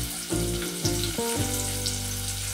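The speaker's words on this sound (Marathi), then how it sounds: "आणि आता कांदा चांगला भाजून घ्यायचा आहे" Onion fries in hot oil, giving a constant dense sizzle. A low tonal hum and brief clunks sit beneath it near the start.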